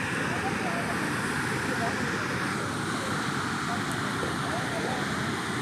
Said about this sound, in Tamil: இதுதான் ஹைக்கரா ஃபால்ஸ்